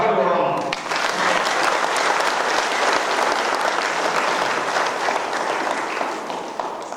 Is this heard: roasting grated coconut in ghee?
no